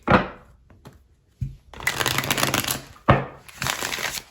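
Tarot cards riffled and shuffled by hand in a series of crisp, papery bursts, two longer runs of rapid flicking separated by brief pauses, close and fairly loud.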